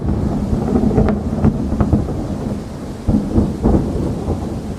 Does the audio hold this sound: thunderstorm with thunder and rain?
yes